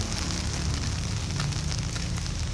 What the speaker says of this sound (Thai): ฝนตก ค่อนข้างกำลังจะหนักทุกคน